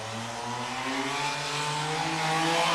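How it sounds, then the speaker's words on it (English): A race car with a 3.5 liter engine runs a loud, raspy exhaust that revs and climbs steadily in pitch, a continuous close roar as it accelerates, with no talking. "The exhaust on this thing just sounds so, like, good."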